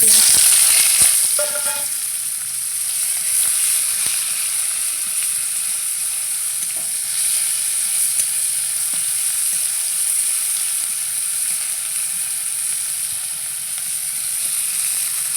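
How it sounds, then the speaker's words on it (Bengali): Onions fry steadily in a pan, a continuous close sizzle with occasional scraping and stirring, no voices. "পেঁয়াজ ভাজা হয়ে গেছে"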